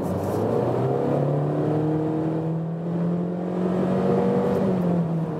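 A 2019 Honda CR-V with a CVT automatic accelerates hard from 70 to 100 km/h in S mode, its engine drone rising steadily and loud, mixed with road and wind noise.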